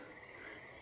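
A frog croaks steadily in a pond by a beaver dam in a marsh at night, a dense, continuous buzzing chorus with a bright steady tone, heard close and at moderate level with no talking.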